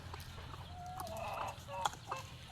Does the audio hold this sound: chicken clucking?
yes